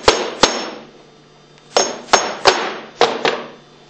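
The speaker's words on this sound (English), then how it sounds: "gradually work the inlet manifold off with a rubber hammer" Sharp taps from a rubber hammer striking the inlet manifold of a Hypro 2535 S plunger pump, eight knocks in irregular pairs and singles, each ringing briefly before dying away.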